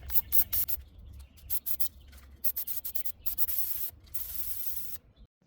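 Short bursts of PB Blaster penetrating oil spray hiss from a can in quick succession onto brake caliper bolts of a 2013 Chrysler 200, close and fairly quiet, ending with one longer spray before silence.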